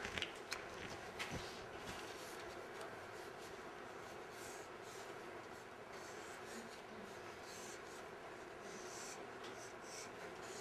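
A pen inks a manga drawing on paper, making faint, close, scratchy strokes that come in short irregular bursts over a quiet background.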